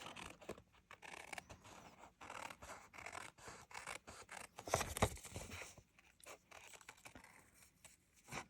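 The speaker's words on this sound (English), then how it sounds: "just take your scissors and follow right along" Scissors snip steadily through paper up close, quiet repeated cuts with a brief louder rustle in the middle.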